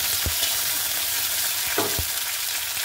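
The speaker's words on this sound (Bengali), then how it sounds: "এবার আমি লাল লাল করে ভেজে নেব পেঁয়াজগুলোকে" Chopped onions fry in hot oil in a wok, a loud steady sizzle with a few soft stirring knocks, close up and without talk.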